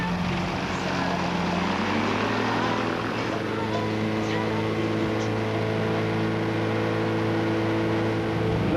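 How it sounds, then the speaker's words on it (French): Light aircraft engine running loud and close as the plane prepares to take off on a runway at the 1998 Tunisia rally, a steady droning roar with a rising pitch early on and faint talk underneath. "Philippe, on va prêt à décoller"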